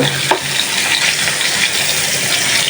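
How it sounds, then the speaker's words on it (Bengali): Koi fish fry lightly in a pan of oil, giving a loud, continuous sizzle with a stirring scrape near the start and small pops scattered through. "তো মাছ বেশি বাজলে দেখা গেছে তরকারি টেস্ট ভালো থাকে না সেজন্য হালকা অল্প একটু বাজবে"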